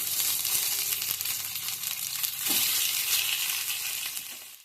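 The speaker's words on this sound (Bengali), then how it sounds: "আরও অল্প একটু তেল দিচ্ছি দিয়ে আরও যে দুটো আছে এই দুটোও ভেজে নিচ্ছি" Stuffed bread pieces sizzle in a shallow layer of hot oil, a dense, bright crackling hiss that stays loud and even with a few faint clinks, and no voices over it.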